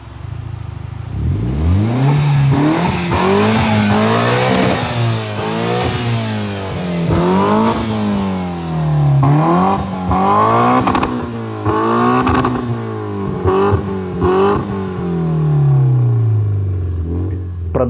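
An all-wheel-drive turbo Dodge Stratus Coupe running a Mitsubishi Evolution engine revs hard again and again, each loud rise and fall close by in a repeating rhythm, with no talking.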